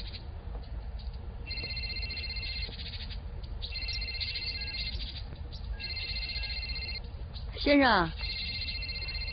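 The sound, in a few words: mobile phone ringing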